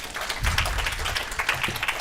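A conference audience at a mesothelioma symposium claps for a speaker: brief, close applause of many hands with sharp individual claps, steady for about two seconds and without any talking.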